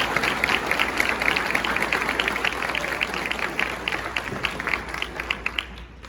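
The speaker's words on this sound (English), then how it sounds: "I want to give them all a round of applause" A crowd applauds steadily for high school football players at a signing day ceremony, dense continuous clapping with a few sharper claps standing out near the end.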